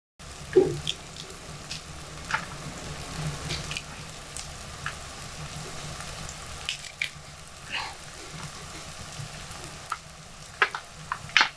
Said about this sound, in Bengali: গরম তেলের মধ্যে দুটো আস্ত তেজপাতা নিয়ে নিয়েছি